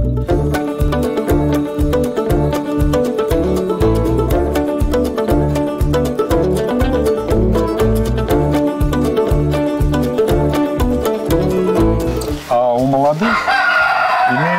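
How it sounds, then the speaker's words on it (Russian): In a warm henhouse, chickens cluck in a loud, dense, rhythmic chorus, and a rooster's crow rises near the end. "Старые куры у нас вот за мной, теплый курятник"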